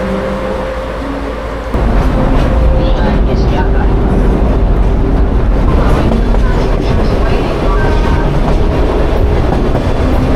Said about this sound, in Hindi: आज हालांकि कई और बढ़िया जरिए भी हैं, जैसा सागानो रेल।